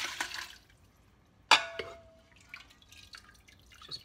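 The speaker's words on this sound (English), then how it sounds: "Just pour this crushed bone broth into the food mill to separate out the bones and chunks from the broth" Crushed bone broth from a pressure cooker is poured into a food mill in a kitchen. The pour comes as a few separate splashes and drips with one sharper splash in the middle, quiet, with no talk.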